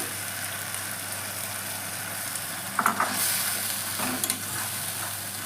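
Tomato puree sizzling in a hot pan for Dal Makhani, a steady frying hiss with a few brief clatters of the stirring spoon partway through, close and fairly quiet.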